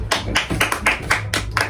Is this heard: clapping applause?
yes